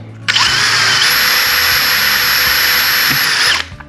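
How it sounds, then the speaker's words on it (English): A power drill boring a small hole into the end of a wooden clothespin, one loud steady high whir lasting about three seconds, starting and stopping abruptly, with no voices. "I'm going to take those and drill a small hole right in the end of these pins."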